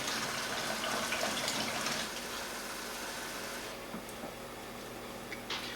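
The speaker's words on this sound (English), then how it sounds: "do you want me to let the water run?" Water runs steadily from a tap indoors, a broad hissing rush that carries on throughout and eases slightly partway, with no talking over it.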